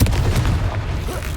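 Booming blasts from the Confringo fire spell in the Hogwarts Legacy video game, a dense low explosive rumble filling the whole moment with no speech.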